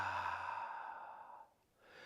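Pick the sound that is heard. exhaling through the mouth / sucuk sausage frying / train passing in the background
exhaling through the mouth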